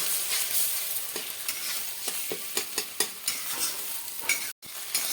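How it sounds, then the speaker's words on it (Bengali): Eggs frying on a high flame for egg chowmein: a bright, constant sizzle punctuated by a series of rhythmic spatula scrapes and taps against the pan, followed by a brief dropout, with no talking. "হাই ফ্লেমে রেখে এটাকে আমি সব কিছু এভাবে ভেজে নেব"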